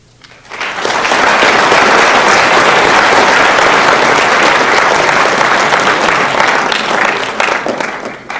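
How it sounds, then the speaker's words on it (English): Loud, sustained audience applause at a school fall sports awards ceremony, a dense wall of clapping rising sharply and holding steady for several seconds before tapering slightly. "you deserve a big round of applause"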